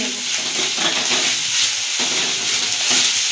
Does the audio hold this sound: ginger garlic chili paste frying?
yes